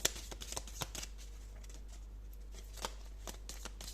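Tarot cards being shuffled by hand, a run of quick papery riffles and taps, close and fairly quiet, with no talking.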